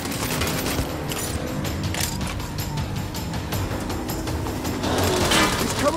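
Continuous gunfire in the Saints Row video game: rapid, overlapping shots and mechanical clatter at steady loudness for the whole stretch, building slightly louder near the end.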